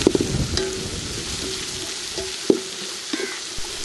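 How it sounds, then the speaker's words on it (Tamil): Shallots are sautéed in a pan until golden, a steady sizzle with scraping stirs and occasional sharp clinks of a utensil, close and busy with no talk. "நல்லா பொன்னிறமாக வர வரைக்கும் நல்லா வதக்கணுங்க"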